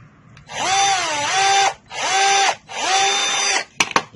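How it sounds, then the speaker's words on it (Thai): An electric drill cuts a row of holes for running electrical wire, three separate loud whirring bursts with short pauses between, then a couple of sharp knocks at the end; nobody speaks. "เจาะตรงนี้นะ เจาะตรงนี้นะ ใกล้กันนะครับ"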